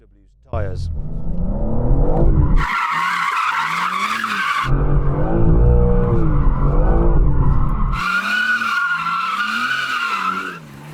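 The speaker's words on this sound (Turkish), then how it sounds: "Ama önce BMW'nin lastiklerini iyice ısıtmam gerekiyor" BMW car tires squeal and skid while being warmed up, loud sustained screeches that rise and break off in bursts over a low engine rumble, with someone speaking between them.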